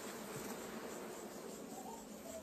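Bees buzzing around an opened hive out in a pasture, a dense, steady drone of many insects with no gaps, fairly quiet, with no voices.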